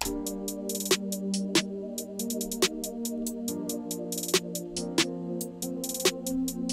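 A looping beat with sustained tones underneath, punctuated by sharp, regular snare hits cutting through alongside quick hi-hat ticks.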